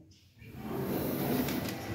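Doors of a 2017 Kone lift sliding open, a smooth mechanical whoosh and motor hum that rises after a brief quiet start and then holds steady and fairly loud.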